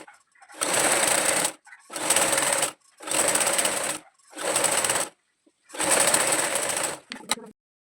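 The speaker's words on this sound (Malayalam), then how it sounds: "ഒന്ന് മടക്കി സ്റ്റിച്ച് ചെയ്ത് കൊടുക്കാം" A sewing machine stitches the folded lining of a kids' frock in five bursts of rapid, even whirring, each lasting about a second, separated by short pauses and ending with a brief final run.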